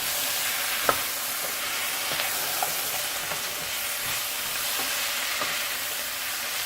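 Methi aloo, fenugreek leaves with potatoes, frying in a pan, a steady close sizzle with soft periodic scrapes and taps of a spoon as it is stirred, no voices.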